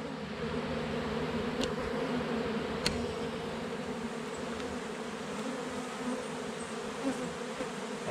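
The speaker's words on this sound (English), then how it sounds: "usually there's nothing in them but mad bees" A dense, steady drone of many honey bees buzzing close by in an open hive box, a continuous hum that holds without a break throughout.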